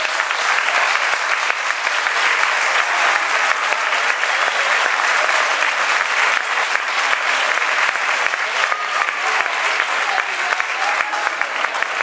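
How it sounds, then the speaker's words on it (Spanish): Loud, dense crowd applause for the cooks at an outdoor Cruces de Mayo neighborhood festival in Nou Barris, continuous and close throughout with no break. "Permitidme que os pida un fuerte aplauso para las cocineras"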